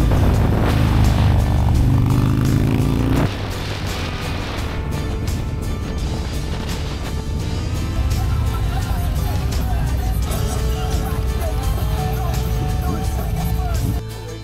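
A 2021 Harley-Davidson Street Glide Special with a Stage 2 setup and 475 cam rumbles loudly nearby, revving hard with popping bursts at first, then settling into a deep lumpy idle as people talk over it.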